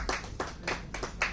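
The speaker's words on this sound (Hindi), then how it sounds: "तालियों से स्वागत करें आप उनका।" Members of a music programme audience welcome a singer with a handful of separate, fairly close hand claps, about five in quick succession, sparse rather than full applause.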